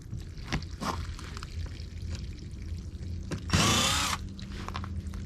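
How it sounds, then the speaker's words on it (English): A power drill backs screws out of a car seat, one loud whirring burst of about half a second standing out over quieter handling noises and clicks nearby. "Pull the screws out first."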